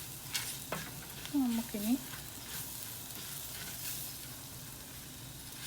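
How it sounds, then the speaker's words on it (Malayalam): Coriander frying in oil in a clay pot for a traditional Kerala fish curry, a soft steady sizzle with light stirring scrapes, while a voice speaks briefly near the start. "മല്ലിക്ക് കുറച്ച് സമയം എടുക്കും നല്ല മുരിഞ്ഞ് വരാൻ"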